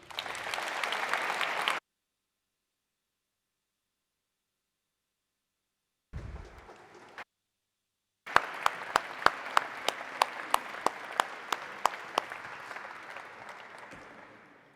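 Audience applause after a startup pitch for green period products at an accelerator demo day: a burst of clapping, a long silence, another short burst, then sustained, fairly loud applause with sharp individual claps standing out.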